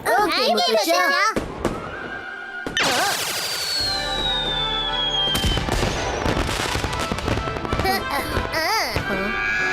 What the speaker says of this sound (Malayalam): പടക്കം പൊട്ടിക്കുമ്പോൾ വളരെ സൂക്ഷിക്കണം കേട്ടോ